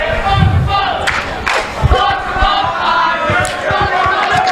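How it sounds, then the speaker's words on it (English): A crowd cheers and roars at a steel cage wrestling match, with loud shouts and chanting rising and falling. "Gavin Quinn seems to have his cheering party over here, too"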